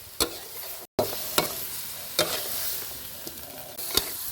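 Fried tilapia being stir-fried with holy basil and chili in a pan: a steady sizzle of hot oil broken by sharp clattering scrapes of a spatula at irregular intervals, close and fairly loud, with no talking.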